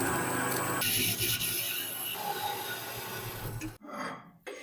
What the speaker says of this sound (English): We begin by cutting a steel bar with a diameter of 25 millimeters by 540 millimeters.